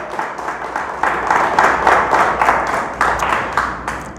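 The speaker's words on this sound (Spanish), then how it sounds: "Denle fuerte el aplauso, es para Dios." Loud, sustained congregational clapping fills a church service in praise to God, dense and continuous with rhythmic pulses, no speech over it.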